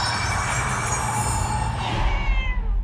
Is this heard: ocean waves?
no